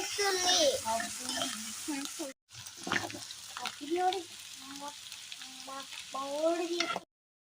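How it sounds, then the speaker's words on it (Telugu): Sprouted moong dal deep-fries in hot oil with a constant bubbling sizzle that runs underneath almost continuous talking, including a voice, before cutting out abruptly. "బాగా కలుపుతున్నాడుగా డీప్ ఫ్రై చేస్తున్నాం"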